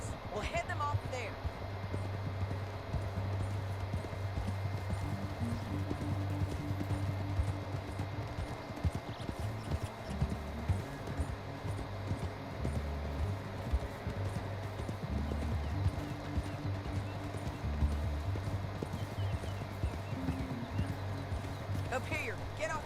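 Horse hooves galloping in Red Dead Redemption 2, a steady clip-clop rhythm running throughout at moderate loudness, with a character's voice speaking over it.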